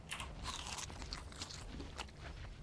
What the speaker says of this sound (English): This is the most crunchy meat I've ever heard.